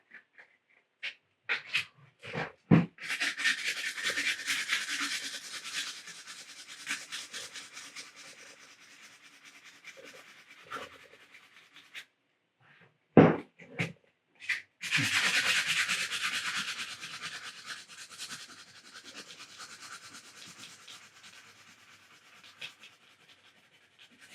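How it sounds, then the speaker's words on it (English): Hand sanding in two long stretches of steady gritty rubbing, close by, separated by a pause with a few sharp knocks. "I'll just do a little bit more of this on camera because it's just sanding"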